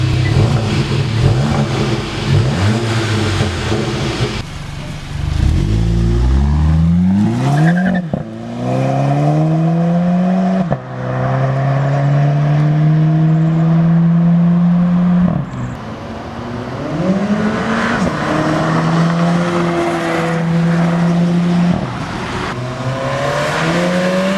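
A warm MK7 VW GTI with an XForce catback exhaust and no resonator rumbles at idle, then revs up repeatedly, rising and falling in pitch with a deep, throaty tone, close by.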